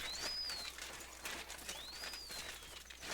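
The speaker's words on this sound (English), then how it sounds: "I could hear it in the game. I think it's a bird." Bird calls in the video game Kingdom Come: Deliverance II: two thin rising-and-falling whistles about a second apart over a steady ambient game background, fairly faint.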